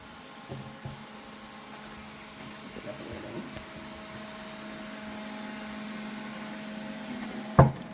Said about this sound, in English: Sorry if you can hear my vacuum in the background.